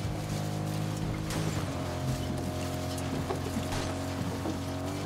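A vehicle drives in Fortnite, a steady engine drone with shifting tonal hum and occasional bumps and clatter, continuous and fairly close.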